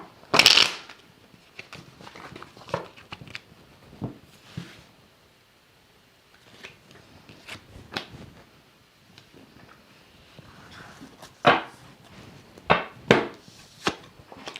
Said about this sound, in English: All right, Kristen, here's your 3 cards coming right up.